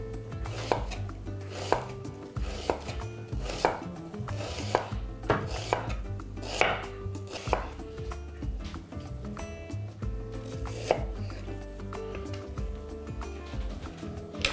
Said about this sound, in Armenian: 1 գլուխ կարմիր սոխը, կտրատում ենք կիսաօղակների։